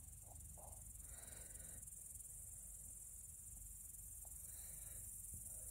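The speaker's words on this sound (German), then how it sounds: "und höre die Grillen zirpen" Crickets chirping at sunset on a hillside near Furtwangen, a faint but continuous high-pitched trill running steadily throughout, with quiet outdoor ambience and no voices.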